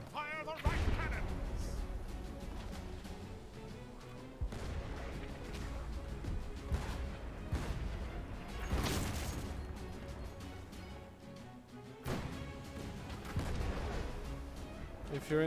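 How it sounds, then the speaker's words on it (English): Booming cannon blasts and crashing impacts from the naval video game Blazing Sails rumble in repeated bursts, with voices talking over the action. "Fire the right cannon!"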